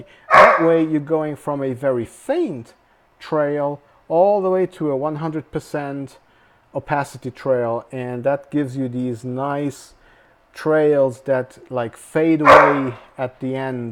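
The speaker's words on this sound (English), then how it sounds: "sorry about the dogs, they are not happy because there's somebody playing outside." Dogs bark repeatedly in the background while someone talks steadily over them; several louder yips stand out near the start and end.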